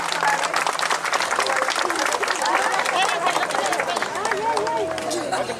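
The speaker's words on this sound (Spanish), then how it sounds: "y esos aplausos que se escuchen" Pilgrims on the Villa Guerrero to Tonatico pilgrimage clap loudly and steadily in a close, bustling crowd, with chatter, shouts and rustling movement mixed into the applause.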